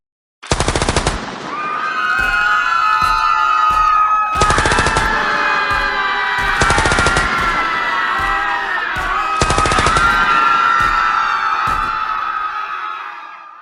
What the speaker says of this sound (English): In a land ruled by fear, the police opened fire without warning.